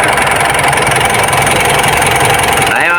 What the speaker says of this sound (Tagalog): Napakaganda ng andar ni Montero.